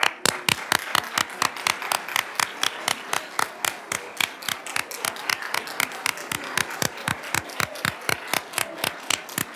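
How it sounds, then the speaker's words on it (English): Applause at a Fordham College Lincoln Center awards ceremony honoring students, heard as a sharp, evenly spaced run of single claps, crisp and close, repeating steadily throughout with little crowd noise behind. "give them a round of applause"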